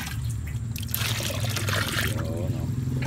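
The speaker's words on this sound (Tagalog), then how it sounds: "Dadagdagan natin ng tubig kasi kumuha ko ng tubig eh." Water is poured to top up a container outdoors, making a steady close trickle and splash that runs through the whole moment.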